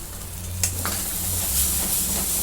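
Green chili and garlic paste sautéing with roasted masala in a pan, a steady close hiss of frying with a brief scraping stir, continuous and moderately loud with no voices.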